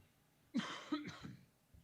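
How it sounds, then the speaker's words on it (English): A couple of harsh, close coughs in quick succession, with a throaty rasp, in an otherwise quiet setting. "It's a pretty stubborn cough."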